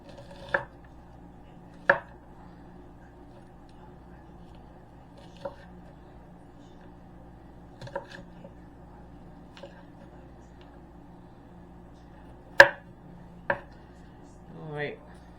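A knife cuts through food, likely onion, on a cutting board in a handful of sharp, separate knocks spaced a few seconds apart against a quiet kitchen background.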